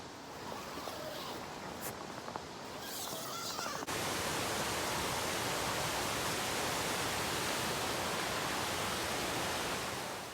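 Waterfall at Dry Creek Falls on the Pacific Crest Trail, a dense steady roar of falling water that becomes loud and close after a quieter opening few seconds.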